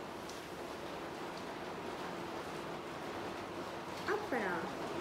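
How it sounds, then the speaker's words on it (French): Heavy rain hisses steadily and evenly throughout, a dense wash of noise, with a brief voice near the end. "Oui, il pleut beaucoup ici, hein."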